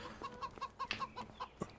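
Chickens in the farming video game Farming Simulator 25 cluck in a quick, steady series of about eight short calls, fairly faint, with no talking over them.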